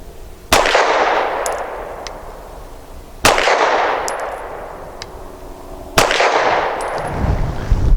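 Three loud, sharp pistol shots from a Walther Q4 SF firing light competition loads at steel targets, each spaced about three seconds apart with a ringing metallic clang from the struck steel and a decaying echo after every shot.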